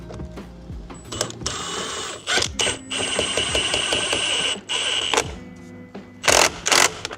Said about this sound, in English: we can go ahead and we can fire this bolt back in here